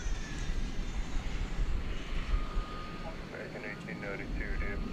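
Super Cargo Master cargo plane approaching at DFW Airport, a broad steady engine rumble with wind noise, moderately distant, while people talk and radio chatter plays over it.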